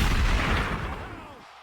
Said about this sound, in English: You get the gunshots for those.